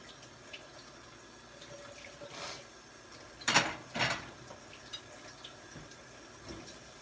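Liquid is gently poured over the top of a dish in a home kitchen while preparing a Thanksgiving meal, giving a brief soft splash and trickle that rises twice in quick succession amid quiet kitchen noise.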